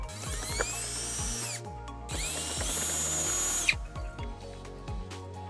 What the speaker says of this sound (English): You can now remove 3 Phillips head screws from behind each wheel